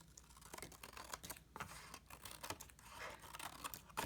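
Fiskars scissors slicing through a card with a run of crisp snips and papery crunches, close and fairly quiet, with no talking.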